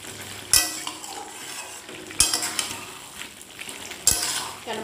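Marinated chicken being stirred and fried down in a pan for chicken kosha, three sharp spoon-on-pan scrapes and clanks over a low steady sizzle, no talking.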